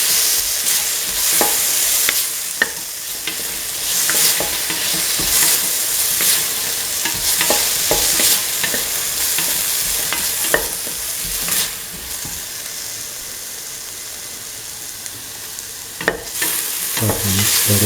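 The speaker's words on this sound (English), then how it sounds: "Keep on sauteing." Carrots and tomato paste sauteing in a pan, a steady loud sizzle broken by frequent scraping stirs of the spoon, close up with no talking.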